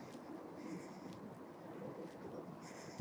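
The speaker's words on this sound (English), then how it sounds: "It's very windy" Steady wind rushes and buffets the microphone in a low, continuous roar, with no voices, along Tanjong Rhu Promenade by the river in Singapore.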